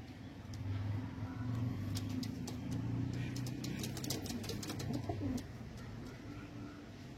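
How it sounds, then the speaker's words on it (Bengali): Patta pigeons coo repeatedly and flutter in a loft or cage, soft wingbeats and low rolling coos filling the space, with faint traffic hum in the background. "পাট্টা পায়রা হাতে কিন্তু ধরা যায় না, প্রচণ্ড ছটপট করছে পায়রা"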